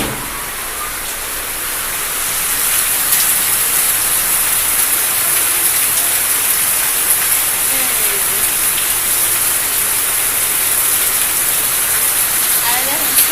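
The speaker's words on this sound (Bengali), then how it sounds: "এখন বাইরে বৃষ্টি হয়ে গেছে, হঠাৎ করে বৃষ্টি শুয়েছে" Steady heavy rain falls outdoors, a dense continuous hiss that swells after the first couple of seconds and holds evenly, with faint voices underneath.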